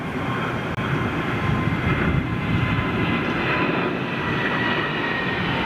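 A Boeing 777 jet airliner in oneworld livery at London Heathrow, watched from a hotel rooftop, gives a steady, loud broadband engine roar that holds evenly throughout with no talk.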